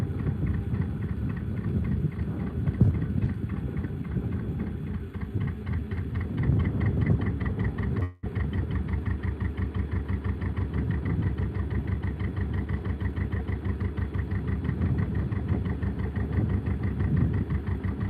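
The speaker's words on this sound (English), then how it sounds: "Can you guys hear the boat engine all right from where you are?" A narrowboat engine idles steadily at close range, a low, even throbbing chug that runs unbroken apart from one brief dropout partway through.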